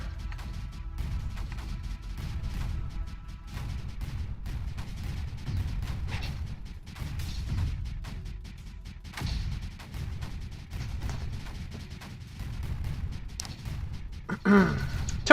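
Turrets in the strategy game Creeper World 4 keep up a rapid string of low thuds and shots at a moderate level for the whole stretch, with no voice heard.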